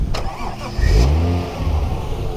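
A 1994 Toyota Mark II Tourer V JZX90 with its 1JZ straight-six cranks briefly, then fires up with a loud, close rev that settles toward idle, all in one quick start at a Suzuka track day.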